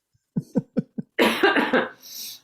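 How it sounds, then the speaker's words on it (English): A series of four short, quick coughs, followed by a longer, louder burst of harsh coughing and breathy noise, close up. "now I'm going to start coughing"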